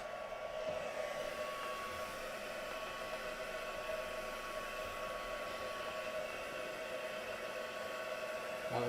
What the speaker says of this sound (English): So I'm going to heat this up and dry it up a little bit now.